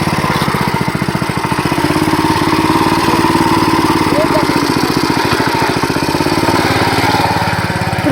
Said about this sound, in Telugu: బండి అయితే చూడండి ఎలా తిప్పుకుంటున్నాడో